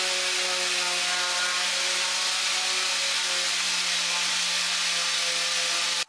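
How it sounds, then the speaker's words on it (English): A power sander works a wooden bathroom frame while hooked to a shop vac, giving a steady, fairly loud mechanical whine with a constant vacuum hiss and sustained tonal hum, running without pause and without speech. "I'm going to continue sanding the frame. I have my sander connected to like a shop vac"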